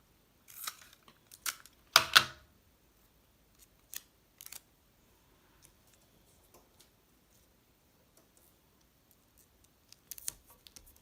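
Tape is pulled and pressed down to hold a craft weaving, giving a few quick, quiet crackling bursts near the start, then faint scattered ticks.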